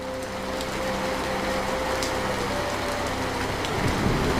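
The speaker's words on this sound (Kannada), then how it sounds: "ಆದರೆ ಕತ್ತಲೆಯಾಗಿ ಮಳೆ ಸುರಿಯಲು ಪ್ರಾರಂಭಿಸಿತು" Rain pours steadily in a dense, even hiss that holds at one level from start to finish, with a faint low hum underneath and no talking.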